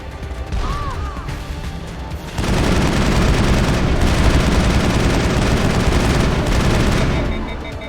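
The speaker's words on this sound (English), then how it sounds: "He's shooting at the wall." Gunfire in the Mass Effect video game, with a sparse opening that gives way at about two and a half seconds to a loud, dense, sustained volley of shots and impacts that rolls on until fading near the end.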